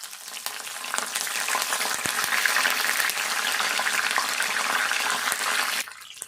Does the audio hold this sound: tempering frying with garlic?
yes